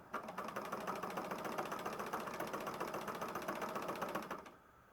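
A Singer 99 sewing machine stitches in a fast, even mechanical clatter close by, running steadily for about four seconds and then stopping abruptly, with no talking.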